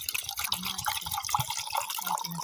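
Water spurts and splashes in quick irregular bursts into a well, with dripping and gurgling close by throughout.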